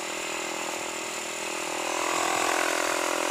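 A 250cc motorcycle engine revs steadily, with a droning whine that swells and climbs slightly near the end, close and continuous with no talk.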